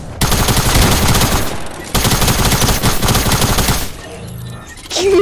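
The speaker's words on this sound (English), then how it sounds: "He has auto fire." Sustained automatic gunfire in the video game Fortnite, a loud continuous rattling burst that briefly breaks off and resumes, then gives way to quieter game sounds before another burst at the end.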